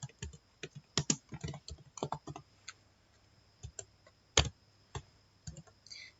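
Fingers type on a computer keyboard while entering an Excel spreadsheet, producing irregular bursts of crisp, close key clicks with short pauses and no talking.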